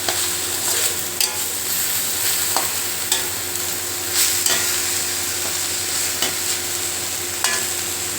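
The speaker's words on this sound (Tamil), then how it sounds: "இது போட்டு நல்லா வதக்குங்க இந்த தேங்காவோட பச்சை வாசனையும் பச்சை மிளகோட பச்சை வாசனை போகிற அளவுக்கு வதக்குனா போதும்" Grated coconut and green chilies sautéed with cooked fish in a pan: a continuous bright sizzle with repeated scraping strokes of a spatula stirring at a steady, unhurried pace, close and fairly loud.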